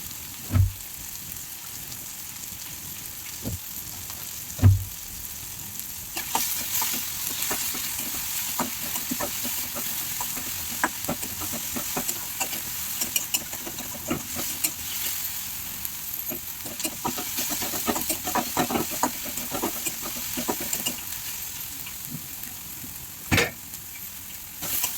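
Tomatoes frying in a pan for an Odia-style palak saag and dalma, a soft continuous sizzle with scattered scraping stirs and a few sharper clinks of the spoon against the pan; no talking.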